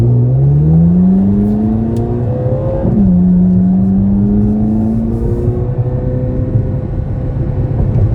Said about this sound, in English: I'm putting it into track mode. And I'm just going to see how it shifts.